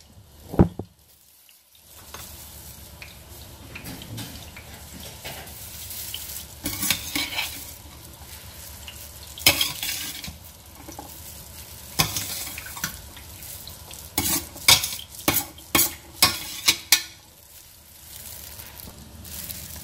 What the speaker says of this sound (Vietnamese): Sau đó các bạn trộn đều phần ngô và nếp với nhau.